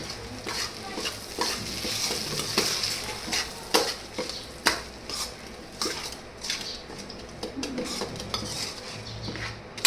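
A spoon stirs vagharela poha, tempered flattened rice, in a pan. It scrapes and clicks against the metal in an irregular rhythm over a low sizzle, close and continuous with no voices.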